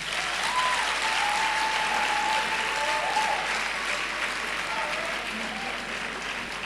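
Audience at a university congregation ceremony applauding steadily, a dense wash of clapping that holds loud throughout and eases slightly near the end.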